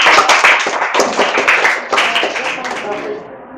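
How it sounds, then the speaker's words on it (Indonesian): Students in a classroom clap together in a dense, steady burst of applause that runs throughout and softens slightly toward the end. "Bagus, tepuk tangan dulu."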